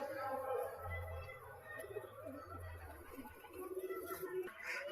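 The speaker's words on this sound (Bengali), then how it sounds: "তো বাকি সব পায়রা খেতে চলে এসেছে।" Soft cooing from pigeons gathered to feed comes and goes among other bird sounds and faint background murmur, fairly quiet and low-pitched.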